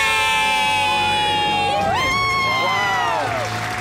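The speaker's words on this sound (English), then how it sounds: "Let's hear a great debt-free scream." Studio crowd screaming and cheering in celebration of becoming debt-free on a radio call-in show, a loud sustained burst of whooping voices swelling and holding for several seconds.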